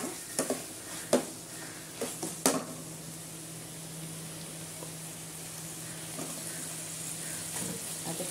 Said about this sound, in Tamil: நல்லா வெங்காயம் வதங்கிறது.